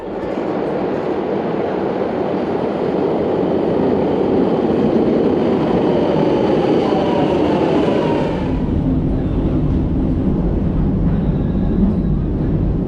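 A Milan Metro train rumbles into the platform loudly and steadily, its roar shifting as it slows, with a rising whine and faint clatter, and no voices.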